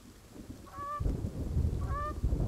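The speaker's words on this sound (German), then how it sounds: "Was? Eine Gans?" Two separate goose honks from the survival game The Forest, each a short harmonic call, the second about a second after the first, over a rumbling low-end game ambience with no talk.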